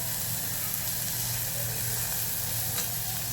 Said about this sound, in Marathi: सगळं छान असं फ्राय करून घ्यायचं आहे ह्या तुपामध्ये